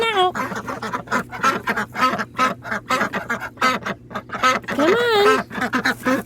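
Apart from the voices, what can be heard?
ducks quacking as they come out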